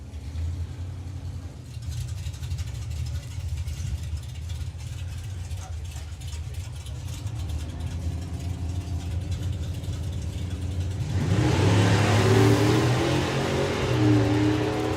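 Nostalgia drag racing car at the NSRA Nostalgia Nationals rumbling at the line, then launching hard with a wheelie into a loud rising engine roar and broadband blast near the end.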